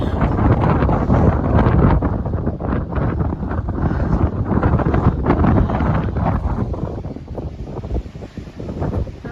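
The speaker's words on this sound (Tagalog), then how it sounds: "so windy" Strong wind blasts across an exposed stretch of Chesil Beach in the UK, a loud, continuous roaring buffet that pounds the microphone throughout with no letup.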